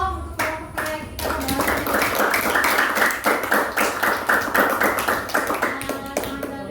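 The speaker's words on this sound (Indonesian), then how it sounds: "beri aplaus dong untuk kelompok yang kita" A small class applauds a student group, a short burst of quick, fairly close hand clapping that builds and holds, then thins into scattered claps.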